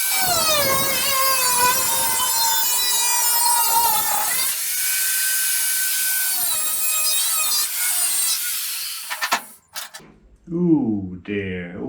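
Power tool cutting out an inner wing section of a classic Mini Cooper S Mk3 in a restoration workshop: a steady, loud, high-pitched whine that runs continuously for several seconds, then stops, and a voice speaks at the end.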